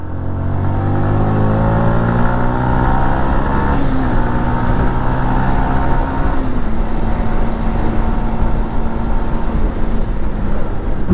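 A motorcycle engine revs and climbs in pitch during a night ride race against a Bullet, a loud, close, continuous drone with rising harmonics that then holds steady. No talk is heard.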